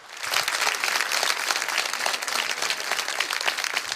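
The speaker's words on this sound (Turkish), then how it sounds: "bir alkış rica ediyorum kendisine" Steady applause from a crowd gathered at an evening event of a hometown association, a dense wash of many hands clapping continuously at moderate loudness with no voices over it.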